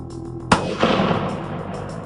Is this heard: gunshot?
yes